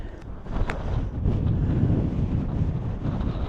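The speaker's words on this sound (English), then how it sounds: "And definitely more windy" Wind buffets the microphone in a steady low rumble on a mountain ridge in Guadalupe Mountains National Park, gusting slightly louder midway, with no voices.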